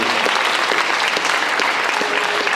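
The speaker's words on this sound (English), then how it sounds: "One last round of applause." An audience at a school signing day applauds in a dense, steady burst of many hands clapping, loud and close for the whole stretch.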